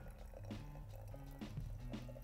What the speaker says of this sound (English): you're actually going to begin to pour water on it